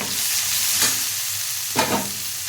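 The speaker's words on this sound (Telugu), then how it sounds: "ఇప్పుడు పచ్చిమిర్చి ఉల్లిపాయలు వేసుకోవాలి ఇవి బాగా ఏగాలి" Green chillies and onions frying in oil in a pan for a tomato fish curry: a steady, close sizzle runs throughout, with two short louder bursts as the ingredients are stirred or tossed.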